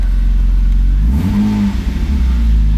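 A manual-swapped JDM BMW E36 engine turns over and catches, settling into a loud, steady mid-pitched idle with a brief rise in revs near the middle, heard close and alone.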